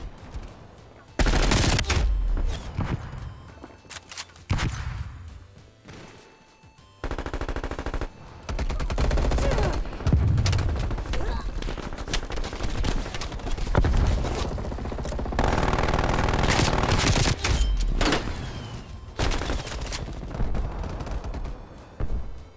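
Rapid automatic gunfire from a sentry gun in a multiplayer shooter game, loud sustained bursts with brief gaps, mixed with other battlefield shots and clatter.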